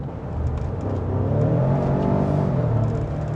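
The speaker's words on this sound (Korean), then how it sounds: "배기 소리가 생각보다는 훨씬 큰 편이었어요. 달릴 때도 소리가 꽤 예쁘게 들리네요." Exhaust note of a Cadillac Escalade or Lincoln Navigator full-size SUV with a 10-speed transmission while driving, a loud, steady engine hum that swells slightly, close and continuous with no talk.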